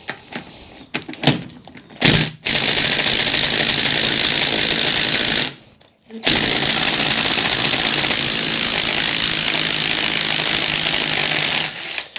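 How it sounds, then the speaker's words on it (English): DeWalt impact wrench hammering loose a 32 mm front hub nut on a Toyota, a loud sustained rattling burst with a brief pause midway, preceded by a few short clanks. "Gonna need to get this nut out, so we could use the rattle gun and just force it out"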